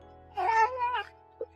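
A cat gives one clear, drawn-out meow up close, wavering in pitch, followed by a short faint chirp after a brief pause over a low steady hum.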